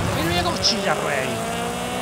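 Car tires squealing in the Forza Horizon 5 video game, sweeping screeches over a loud engine note, with a voice talking over it.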